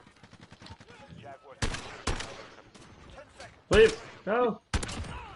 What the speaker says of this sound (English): Explosive rounds one shot the UAV.